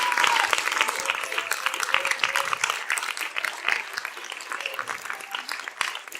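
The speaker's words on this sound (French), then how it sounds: "je crois qu'elle mérite des applaudissements." A hall audience at a Christmas show gives warm applause, many hands clapping steadily for several seconds and slowly thinning out, with faint voices beneath.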